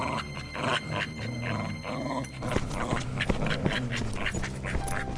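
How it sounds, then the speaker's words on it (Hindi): A dog in a Hindi cartoon jungle story growls and grunts while clamping onto a man's leg, a rough continuous snarl under busy cartoon music and effects. "इस कुत्ते ने तो मेरा पैर ही पकड़ लिया"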